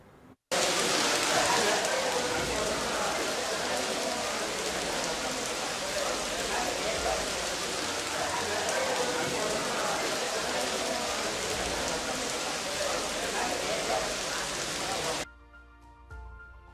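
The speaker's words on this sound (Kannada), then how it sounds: "ಕೆಲವು ಹೊತ್ತು ಅಬ್ಬರಿಸಿದ ಮಳೆಗೆ ನೆಲಮಂಗಲ ಟೌನ್ ಸ್ಥಿತಿ ಹೇಗಾಗಿದೆ ನೋಡಿ" Heavy downpour in Nelamangala town near Bengaluru, a dense, steady roar of rain pounding surfaces that continues unbroken for about fifteen seconds before cutting off abruptly.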